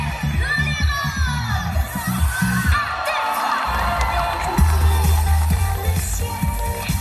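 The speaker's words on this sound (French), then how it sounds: "Mesdames et messieurs, applaudissez" Audience cheering and whooping at a cosplay contest, a loud crowd roar with shouts and scattered claps, mixed with booming low music throughout.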